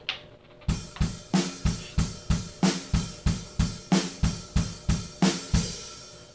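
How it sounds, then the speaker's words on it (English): Rock drum kit plays a song's build-up, with kick drum on every eighth note between snare hits. A steady, driving run of loud, close hits sounds alone, with crashing cymbal wash throughout. "kick drums come in on every 8th note that the snare drum's not playing"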